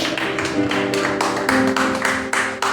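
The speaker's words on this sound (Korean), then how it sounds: "우리 다시 한번 박수하겠습니다." A congregation applauds at a Presbyterian pastor ordination service in a church, steady dense clapping running throughout with a few stronger swells, close and fairly loud.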